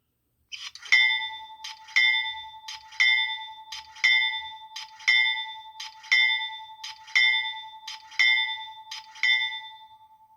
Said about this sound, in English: it's a pneumatic bell